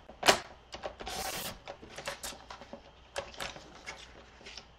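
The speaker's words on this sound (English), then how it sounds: "I'm going to take my trimmer." A paper trimmer slices card stock for handmade watercolor cards: a sharp click, then a brief swishing slide of the blade, followed by a scatter of lighter taps and clicks, close and fairly quiet.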